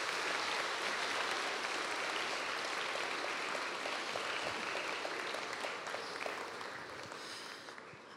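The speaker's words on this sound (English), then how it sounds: "give the parents a big round of applause for their support" Sustained applause from a school awards ceremony audience, steady and dense clapping that fades slightly toward the end.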